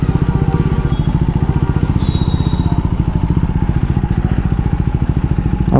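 Motorcycle fitted with a heavy Apollo Alpha H1 tyre, its engine running close and loud with a fast, even thumping beat that holds steady throughout with no talk over it.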